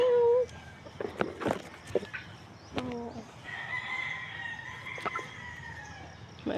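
Chickens cluck and squawk nearby in scattered bursts, with a rooster's crow joining in midway, while a person talks intermittently in the background.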